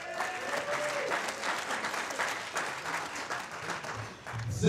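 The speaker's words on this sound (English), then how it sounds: "Married people, let me hear you clap." Wedding guests at a reception clap steadily in a dense, moderately distant round of applause, with faint cheers and voices mixed in, lasting several seconds.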